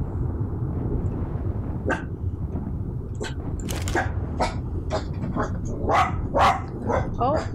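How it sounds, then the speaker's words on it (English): A pet dog barks in a burst of sharp, repeated yaps in the second half, fairly close and loud, over a steady low hum of game sound and someone talking. "Oh, sorry, that's my doggy."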